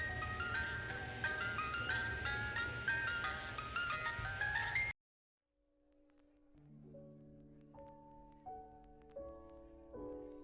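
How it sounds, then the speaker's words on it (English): A passing ice cream truck plays its chiming jingle, first as a dense, loud burst of layered music, then after a sudden silence as clear, sparse melodic tones rising one by one. "anytime I'd hear an ice cream truck passing by"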